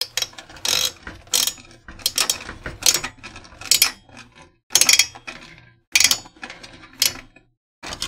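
A torque-wrench-like mechanism being loosened while building a PC gives repeated bursts of ratcheting clicks in uneven spurts, close and crisp, separated by short pauses.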